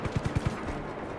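Gunfire in the open-world action game Just Cause 3: a rapid burst of about five close, punchy shots in the first half-second, then fading to a low, quiet game ambience.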